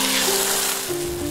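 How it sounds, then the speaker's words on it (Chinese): Chicken breast pan-frying in oil gives a steady, loud, dense sizzle that fills the whole moment, with a faint tonal hum running underneath. "煎到微微焦黄，然后翻面"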